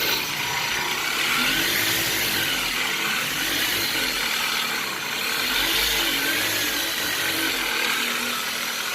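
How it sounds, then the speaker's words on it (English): Flex polisher running a green Buff and Shine Velcro-backed polishing pad over car paint during paint correction, a continuous steady whirring drone with slight rises and dips, close and alone. "So Adam's using a Buff and Shine brand pad, and it is a polishing pad"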